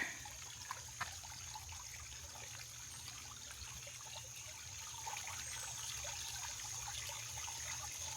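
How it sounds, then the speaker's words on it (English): Water trickling and flowing steadily in a creek, faint and distant, a soft continuous babble heard from some way off. "There's a lot of water in the creek. You can even hear it over here."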